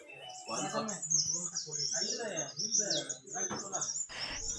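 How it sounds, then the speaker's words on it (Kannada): Birds chirp and tweet in quick high bursts throughout, running alongside a person talking. "ಆ ಹಕ್ಕಿಗಳ ಚಿಲಿಪಿಲಿ ಶಬ್ದಗಳು ಎಲ್ಲ ಕೇಳಿಸ್ಕೊಂಡ್ರೆ"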